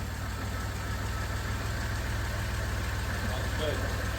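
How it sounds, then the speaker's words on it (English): Engine of a 1991 Dodge Caravan idling steadily right after a restart, a close, even low rumble with a regular pulsing beat and no talk over it. "I cannot believe how well that motor runs."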